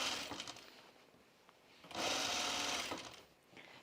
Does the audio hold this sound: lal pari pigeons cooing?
no